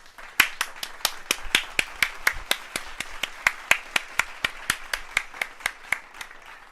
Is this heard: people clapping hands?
yes